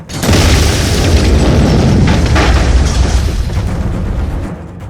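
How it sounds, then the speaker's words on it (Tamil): A time bomb explodes in one loud, sustained boom that rumbles heavily for several seconds before fading, with no voices. "லூசு பயல, அது வெடிகுண்டுடா, டைம் பாம்பு"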